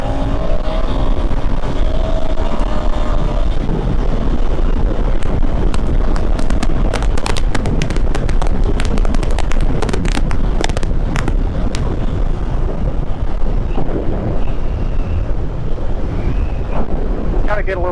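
Ducati Scrambler Desert Sled motorcycle running at high speed, around 93, with steady loud wind buffeting and engine roar throughout, sharp gusty bursts in the middle and a faint voice at times.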